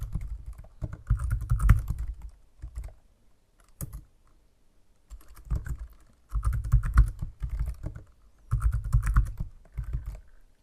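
Typing a network name and password on a computer keyboard while setting up a VPN, with clusters of crisp, close keystrokes in several bursts separated by short silent gaps.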